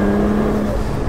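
A tuned Nissan R35 GT-R engine hums steadily at close range, a low sustained drone holding level without a sharp rev or roar of hard acceleration.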